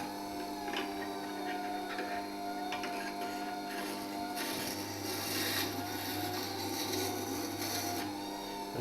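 A wet stone grinder's wheel turns steadily as a carving V tool slides across the stone, giving a constant mechanical hum with soft scraping and rubbing on top; no speech is heard.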